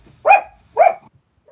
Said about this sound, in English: My dog's here.